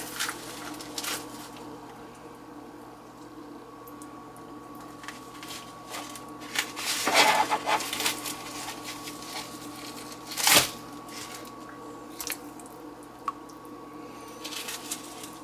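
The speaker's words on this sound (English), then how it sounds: "drop them in the water." Partly frozen chicken parts are dropped into a pot of water, giving a few wet squishing splashes and sloshes, close and moderately loud, with a sharper splash near the end and a faint steady hum beneath.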